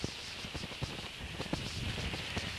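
Steady rain falls in the Amboli and Chaukul area, a dense continuous hiss with close, irregular drop patter throughout.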